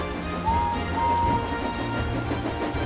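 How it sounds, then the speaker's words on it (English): Rain falling in a steady hiss with low rumbling underneath, continuous throughout, with a faint whistling tone briefly audible and no speech. "It's only rain."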